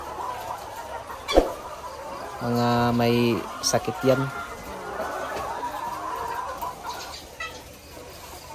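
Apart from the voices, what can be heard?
chickens in layer cages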